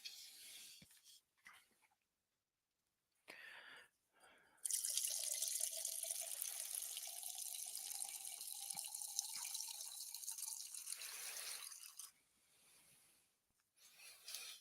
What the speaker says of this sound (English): I'm pouring a second glass.